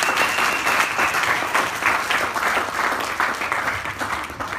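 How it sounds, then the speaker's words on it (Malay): Sustained applause from a seated audience at a weekly company meeting, dense steady clapping filling the room without a break, loud and close throughout. "Jadi satu tepukan untuk Kalmex ni."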